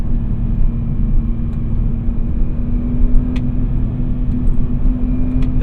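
A 2003 BMW M3 E46 with Dinan modifications in sport mode, its engine droning steadily and loudly under slow, gradual throttle, a low even rumble with a constant hum and no talking.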